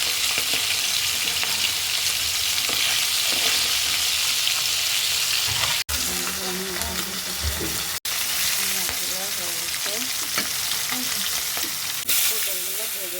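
Hilsa fish and pointed gourd pieces frying in hot oil, a loud continuous sizzle with occasional stirring and clatter, heard close up.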